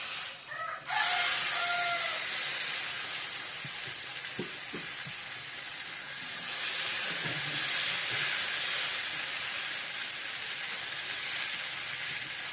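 Batter poured into a hot, oiled pan for a Kerala-style evening snack, giving a steady loud sizzle and frying hiss that swells again midway, with faint clinks of a utensil and no voices.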